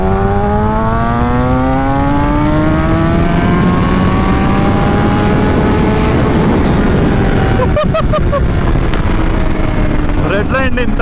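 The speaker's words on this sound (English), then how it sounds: "Redlined in third gear." A Kawasaki Ninja H2 Carbon motorcycle revs hard through third gear toward redline, its engine pitch climbing steadily under heavy wind rush, with a brief gear-shift break and a faint voice near the end.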